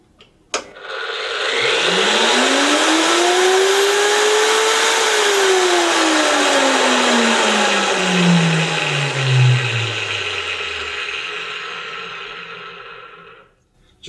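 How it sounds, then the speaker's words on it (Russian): A Zubr UShM-P230-2600 PVST 230 mm angle grinder motor whines as it smoothly soft-starts up to a loud, steady high-pitched roar, then winds down and stops. "Явно виден плавный пуск, что позволяет раскручивать мощный мотор"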